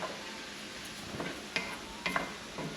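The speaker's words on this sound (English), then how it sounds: "so stir up your vegetables." Vegetables for shrimp and cheesy cheddar grits are stirred in a pan while they cook down, a soft steady sizzle broken by a few scraping, clicking strokes of the utensil, close and fairly quiet.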